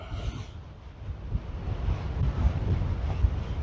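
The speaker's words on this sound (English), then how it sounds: "this wind could almost blow a person off the mountain" Strong wind buffets the microphone on the exposed summit of Black Velvet Peak in Nevada's Rainbow Mountain Wilderness, a steady low roaring rush with gusty surges throughout, no voices.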